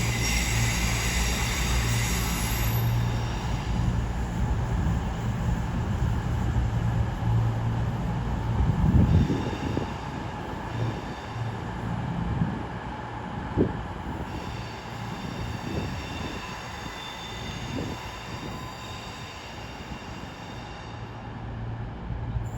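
Class 221 diesel train, 221-101 with 221-106, at London Euston, a low engine drone with rumbling wheels and occasional clanks as it moves through the station, no voices.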